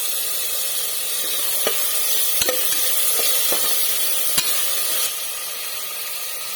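Steady sizzling from onions and tomatoes frying in a pan, with a few soft taps and scrapes of stirring scattered through.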